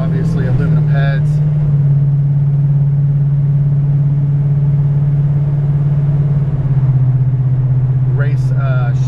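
A 1970 Chevrolet Chevelle SS with a big cam, aluminum heads and a race-shift-kit 700R4 transmission runs with a loud, steady low engine drone, easing slightly near the end as it shifts.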